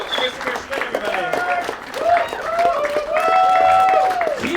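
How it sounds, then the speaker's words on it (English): An audience at a stand-up comedy show claps for a comedian, with a steady patter of applause running under a loud host's voice talking over it. "Keep the clapping happening for Jake Kornely."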